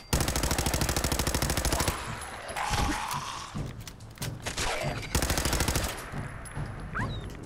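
Automatic gunfire from Fallout 4, a rapid sustained burst of shots followed by further bursts and scattered impacts, loud and close with no talking.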